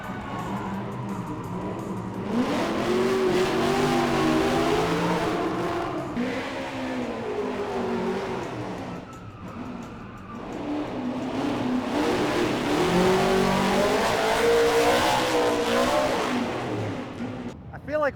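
Cars drift on the drift pad at Summernats, an Australian car festival, with engines revving and wailing in sustained rising and falling surges, loud and continuous, while crowd noise and voices mingle underneath.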